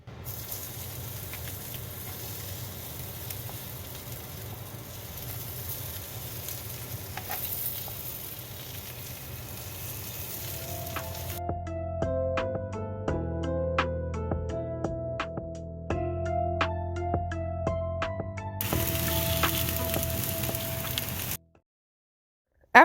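Vegan bacon strips frying in olive oil in a pan over medium heat give a steady, close sizzle that stays fairly even. Partway through, a bright melodic music bed comes in over the frying, and the clip ends with a drop to silence.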